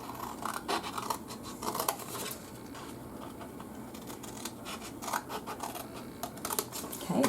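Scissors snip through a scored cardboard treat box in quick bursts of crisp cuts and scraping, close and fairly quiet, with brief pauses between strokes.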